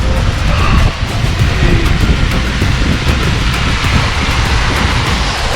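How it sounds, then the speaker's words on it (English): A loud, steady broadband rush of falling water from a waterfall in Carding Mill Valley, Shropshire, constant and close, with no voices. "Made it to the waterfall finally."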